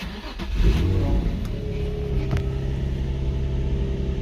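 An Infiniti engine cranks and catches, rising briefly before settling into a steady, rumbling idle close by.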